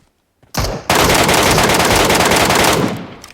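Sustained automatic gunfire in the mobile shooter PUBG Metro Royale, a loud, dense burst of rapid shots starting abruptly after a short silence and running for over two seconds before tapering off.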